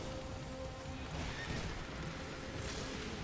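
A horse neighs amid a noisy, busy background, with the whinny blending into rough broadband sound and possible hoof clatter.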